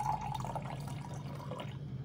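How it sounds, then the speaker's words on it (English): Water poured steadily into a beaker while 100 ml is measured out for a salt solution. A quiet, continuous trickle runs unbroken for about two seconds, with no voices. "In a beaker, add 100 ml of water."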